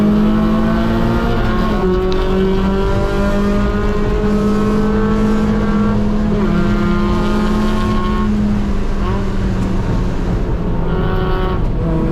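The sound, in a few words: Mazda Miata race car racing at GingerMan track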